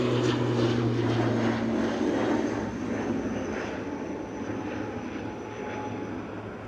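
An aircraft climbs away after takeoff at Edinburgh Airport, a loud steady engine roar with a low droning hum that gradually fades as it recedes, no voices heard.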